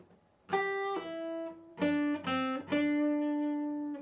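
A guitar plays the slow closing phrase of a solo: five or six clear, separately picked notes with bends and ringing sustain, close and unaccompanied, with short gaps between them.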